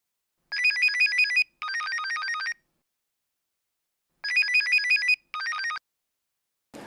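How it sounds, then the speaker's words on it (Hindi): Telephone ringing indoors in a household scene of a Hindi TV serial, with two pairs of bright electronic ring bursts separated by silence. "अरे अर्चू, देखना किसका फोन है।"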